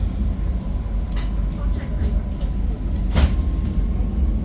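Steady low rumble of a moving train carriage departing Gdańsk, with a continuous hum and occasional faint rattles and clicks throughout.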